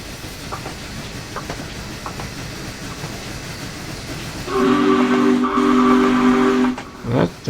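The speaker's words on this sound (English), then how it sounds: "That's a Challenger whistle." Whistle of a Union Pacific Challenger steam locomotive, a loud chord-like blast lasting about two seconds, then a short toot, heard at a distance over outdoor background noise.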